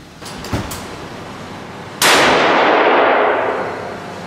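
A single loud rifle shot from a .270 Remington 700 ADL at a shooting range, a sharp crack with a long ringing decay, preceded by a faint metallic click.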